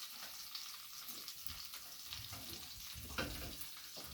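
Pork chops, cut thinner than usual, frying in a pan over high heat, giving a steady, faint sizzle with soft crackles and an occasional stir or scrape, no talking.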